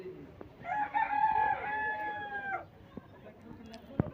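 A rooster crows once in a long, bright drawn-out call at a park poultry enclosure with other chickens nearby, followed by faint clucks and a sharp click, moderately close.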